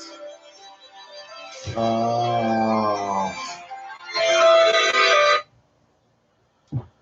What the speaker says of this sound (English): And now I'm getting a phone call.